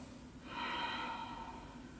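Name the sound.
ocean breath, snoring sound through partially closed throat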